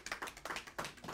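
A church congregation applauds together, a dense patter of many hands clapping in quick uneven bursts, moderately quiet and without speech.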